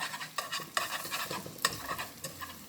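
Meat frying in hot oil for Korean buchu japchae (garlic chive stir-fry), a steady crackling sizzle with sharp pops and spatters, close by, with no voices.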